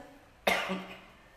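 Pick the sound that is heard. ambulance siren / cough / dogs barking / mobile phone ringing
cough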